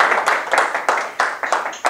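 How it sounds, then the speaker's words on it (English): Audience applause for a PhD candidate at a WPI dissertation defense, a brief burst of several loud, close hand claps in an irregular rhythm with no talk over it. "give our a candidate a good luck and a round of applause before she starts"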